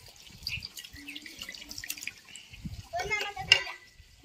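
Water gushes and drips from a broken pipe, splashing in bursts beneath steady conversation from several nearby voices.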